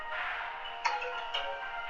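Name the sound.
phone ringing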